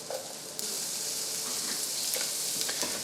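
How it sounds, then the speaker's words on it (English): Bell peppers sauté in butter in a hot pan, a steady close sizzle with faint crackles and a few light stirring scrapes, no voices. "Get them guys sauteed on up"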